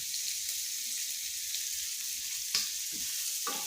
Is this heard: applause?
no